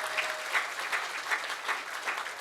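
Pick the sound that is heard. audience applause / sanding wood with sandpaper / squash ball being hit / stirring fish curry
audience applause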